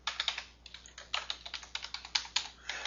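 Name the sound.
typing on a computer keyboard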